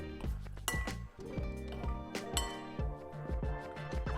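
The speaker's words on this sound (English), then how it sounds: "Stir all of your ingredients together thoroughly." A utensil clinks rhythmically against a bowl while garlic flakes, dried basil and black pepper are stirred into a flour mixture, a quick series of close, bright taps and scrapes.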